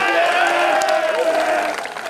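Summer camp audience at a boys' camp awards ceremony cheering and clapping, a sustained crowd roar with whoops that tapers off near the end.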